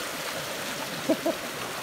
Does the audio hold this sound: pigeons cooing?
no